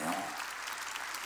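A church congregation claps briefly in a short, moderately loud burst, with a trace of a voice at the very start.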